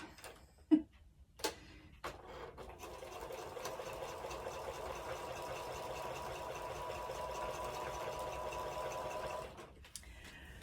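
A sewing machine stitching quilt fabric runs in one continuous fast, even whir for about seven seconds, close and fairly quiet, preceded by a few sharp clicks and taps as it starts up.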